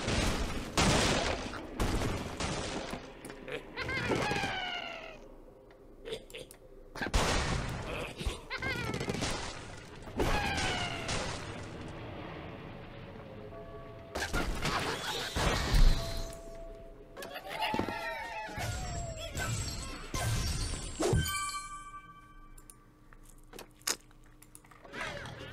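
Crashes, shattering and bursts from the Angry Birds Seasons Halloween episode Haunted Hogs come in repeated loud bunches among game chirps and music, with quieter gaps between the impacts.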